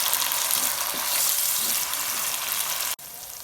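Tomatoes frying with light-browned onions in a pot, a dense steady sizzle with soft stirring movement, briefly dipping near the end before the hiss resumes.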